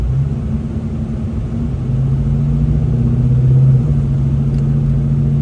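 An SN95 Ford Mustang rolling through snow, its steady low engine rumble rising slightly as it pulls along, close and continuous with no voices.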